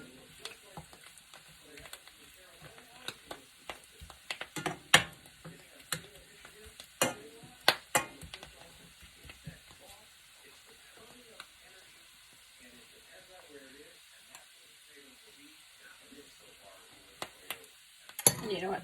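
Butter browning in a pan gives a soft, steady sizzle and crackle, with intermittent sharp pops and stirring scrapes, fairly close and quiet, with occasional talk.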